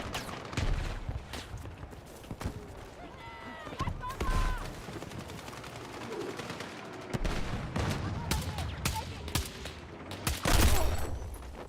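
Rapid bursts of gunfire crackle through a shooter video game, with rattling automatic volleys and scattered single shots at moderate level, mixed with game effects and brief talk.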